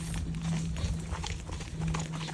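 Duke the horse walking with steady, overlapping hoof clops under a constant low hum and background noise, fairly close and moderately loud throughout.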